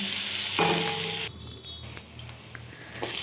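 Chopped onion hits hot oil in a pan with a loud burst of sizzling that drops off abruptly, leaving a softer frying crackle.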